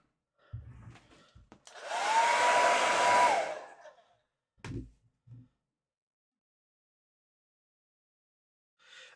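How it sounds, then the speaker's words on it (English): A hair dryer whirs for about two seconds, fairly close and steady, between scattered bumps and knocks in an otherwise quiet room. "What have I got plugged in that needs to be disconnected so I can put my hairdryer in?"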